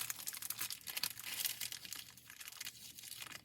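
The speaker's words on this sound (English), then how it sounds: "Now we could take our parchment paper off." Parchment paper is peeled away from a freshly applied Puerto Rican car decal, giving a close, quiet crinkling and tearing rustle in short repeated bursts, with no voices.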